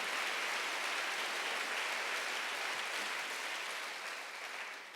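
Sustained applause from a church congregation at a Sunday worship service, a dense, even wash of clapping that holds steady for several seconds, then begins to thin slightly toward the end.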